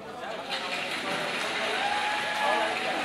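Applause from an audience at a dance event: a steady wash of clapping with crowd noise and some cheering, moderately loud and continuous throughout.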